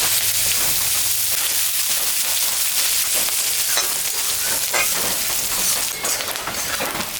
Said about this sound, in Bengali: পেঁয়াজটা আমি দিয়ে দিলাম